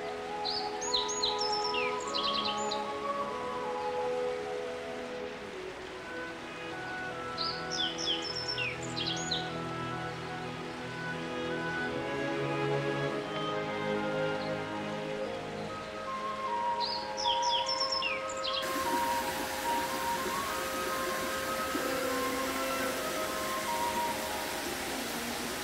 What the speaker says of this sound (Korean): 새소리와 물소리로 기상합니다.